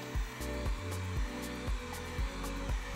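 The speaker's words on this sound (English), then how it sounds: "I think we just do it really fast with a heat gun" A whirring heat gun hums steadily with a rhythmic pulsing while blowing hot air on a Sister of Battle helmet build, its motor tone wavering as it's moved around.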